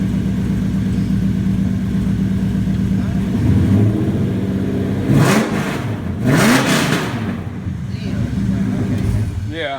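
A turbocharged R18 engine in a Honda Civic drift car idles with a deep, rough drone, then rises in two loud revs and falls back, heard close and under voices.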